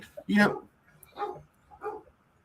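Dog barking indoors, a loud bark followed by two softer barks spaced about a second apart, fairly close by.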